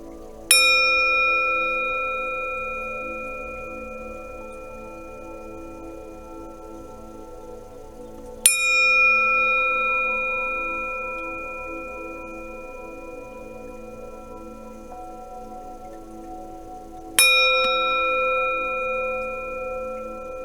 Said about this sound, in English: if you guys are not used to that chiming sound, I do recommend you turn the volume down kind of low